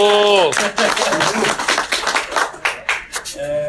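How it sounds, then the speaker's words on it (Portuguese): A few people clap for a speaker at a DrupalCamp conference talk in Campinas, a short burst of close, loose hand claps between stretches of voice. "vamos estrear, salve de palmas"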